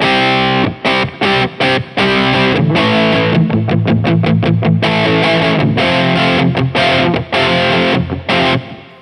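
Distorted electric guitar chords through a vintage amplifier ring out loud and full, strummed in rhythmic bursts with brief gaps, a crunchy amplified tone.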